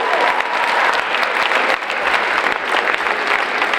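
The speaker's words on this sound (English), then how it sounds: "So Luke DeMoe is giving us a round of applause." A crowd applauds at a high school farewell concert, a dense, steady wash of clapping from many hands that carries through the whole stretch with only a brief dip midway.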